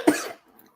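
A single short, sharp cough, close and fairly loud, then quiet.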